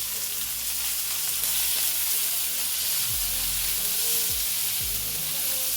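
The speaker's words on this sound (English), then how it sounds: "So I now add in the carrots." Carrots sizzle loudly as they hit onions already cooking in a pan for vegetable rice, a dense, steady hiss of frying up close with a few low scraping stirs, and no talking.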